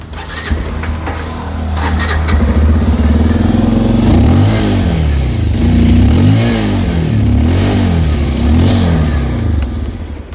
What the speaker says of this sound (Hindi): अगर नए वाले पल्सर 125 की, तो आइए इसका भी एग्जॉस्ट नोट सुन के देख लेते हैं क्या कुछ चेंजेस है।